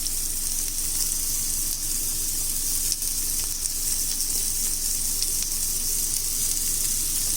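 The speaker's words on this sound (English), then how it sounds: "add the chopped onion pieces to it and roast them for around 2 to 3 minutes" Chopped onion pieces roast in a hot pan for a dal curry, giving a steady, close sizzle and frying crackle that runs unbroken throughout, with no talking.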